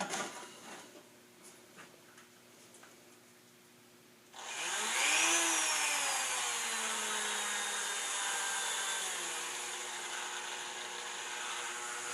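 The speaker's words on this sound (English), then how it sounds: "start roughing this up around the spot where this peg is going to be glued back on with a Dremel tool" A Dremel tool fitted with a fine wire wheel spins up at low speed and roughs up a plastic motorcycle fairing panel, a steady whirring hiss with a rising whine at start-up, close and continuous, with faint rustling beforehand.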